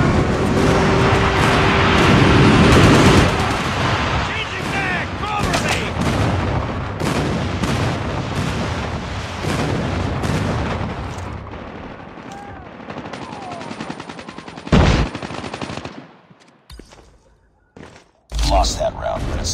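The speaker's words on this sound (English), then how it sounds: "Friendly airstrike incoming." Gunfire and explosions from a friendly airstrike in a multiplayer first-person shooter video game, dense and loud throughout, with sharp blasts later on and game voice callouts mixed in.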